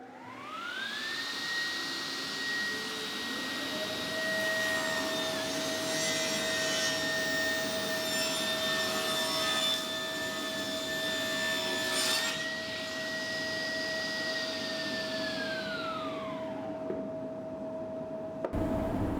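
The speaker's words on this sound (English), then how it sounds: "So this is a rough sizing cut" A sliding table saw makes a rough sizing cut through wood, its blade whining at a steady high pitch that dips as the stock is pushed through, then spins down and stops near the end, with no talk.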